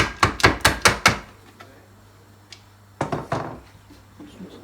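Dry tlitli pasta poured into a bowl for an Algerian recipe, heard as a quick run of six clattering hard taps, then a quiet pause and another short cluster of knocks.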